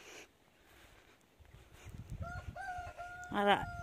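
A rooster crows nearby, loud and drawn out, with a short lead-in of clucking and rustling before the call.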